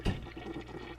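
A toilet flush rushes and gurgles from a video being played, a burst of water at the start settling into a steady draining swirl.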